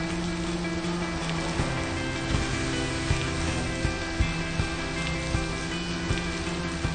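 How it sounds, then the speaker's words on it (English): Heavy rain pours down in a sitcom scene, a dense, constant hiss with soft, irregular thumps of drops hitting surfaces, and no voices. "It's pouring."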